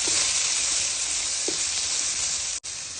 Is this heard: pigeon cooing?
no